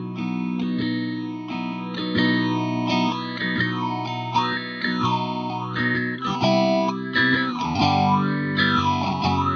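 An electric guitar plays through a Fender effects pedal with the feedback control turned fully up, giving sustained chorus-like notes with sweeping, wah-like swirls and distortion over nearly ten seconds of melodic playing.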